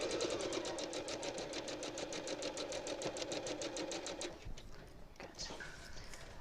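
A sewing machine chain-sews quilt binding in a fast, even run of rhythmic needle strokes lasting about four seconds, close and steady, then stops, leaving quieter handling noises.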